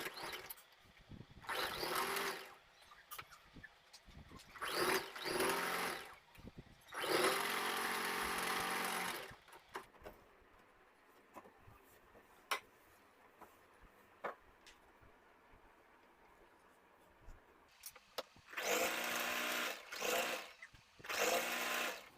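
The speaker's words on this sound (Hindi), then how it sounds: "तो चलिए अब इस पर हम सिलाई लगा लेते हैं।" Close sewing machine stitching the side fitting seams of a kurti suit, several short loud whirring bursts separated by quiet gaps with faint handling clicks, no talking.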